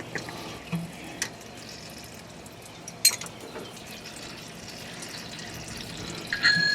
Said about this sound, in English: I got water coming out.